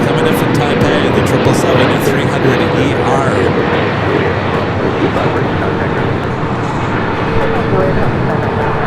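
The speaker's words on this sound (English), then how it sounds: "That would be Eva. Flight 16 coming in from Taipei" An EVA Air Boeing 777-300ER heavy jet arrives at LAX from Taipei, a loud, steady broadband engine roar that holds throughout with slight swells, while a voice talks over it.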